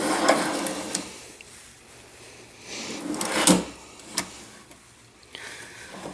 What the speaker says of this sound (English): these are soft close, which means when the drawer closes, they will ease themselves back to the face frame